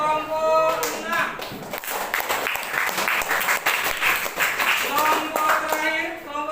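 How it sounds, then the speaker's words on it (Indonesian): Classroom applause for a student group during a teaching practice session, a burst of many hands clapping with some distinct sharp claps, running steadily over several seconds with voices and background talk mixed in. "tepuk untuk kelompok 6."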